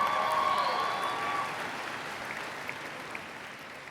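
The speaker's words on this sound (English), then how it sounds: "We actually are recording all the clips of our graduates applauding for Lena" Audience at a college of health and human services graduation ceremony applauding, a steady wash of clapping that is fairly faint and distant, easing slightly after the first second and a half.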